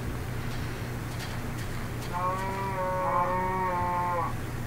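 A long, clear moo from a cow in Minecraft rises midway and holds for a couple of seconds over steady background game music, with no voices.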